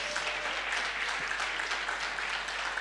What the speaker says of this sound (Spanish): Así que un aplauso para estar los abuelos,